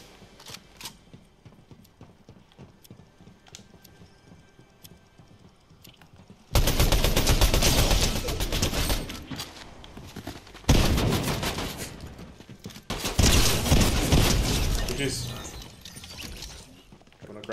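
Bursts of rapid gunfire in Fortnite, loud and near, come in three long volleys after a quieter stretch with footstep-like clopping, with brief gaps between bursts.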